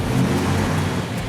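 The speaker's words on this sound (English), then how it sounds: "1958 Plymouth Fury, 350 cubic inch, dual 4." A 1958 Plymouth Fury with a 350 cubic inch V8 and dual four-barrel carburetors revs loudly and steadily nearby, its deep engine rumble sustained throughout.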